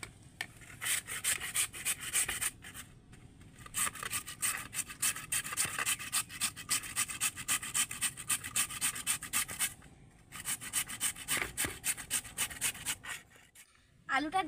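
A large raw potato is rubbed across a small hand grater in quick, rhythmic rasping strokes, loud and close, with two brief pauses between bursts.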